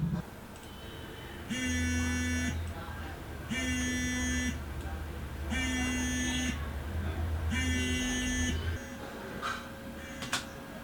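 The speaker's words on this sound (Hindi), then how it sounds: "यहाँ पे नेचुरली वाइब्रेशन का साउंड ही देना पड़ेगा।" A mobile phone vibrating, recorded as a foley effect: four evenly spaced buzzing pulses of about a second each, close and loud, followed by quieter rustling.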